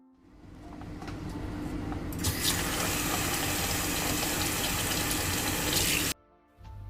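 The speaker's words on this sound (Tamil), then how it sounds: "அடுத்து பிரியாணிக்கான ரைஸ் வந்து ஊற வச்சிடலாம்." Water runs from a tap into a vessel of jeeraga samba rice set to soak for biryani, a steady close rushing pour lasting several seconds before cutting off abruptly.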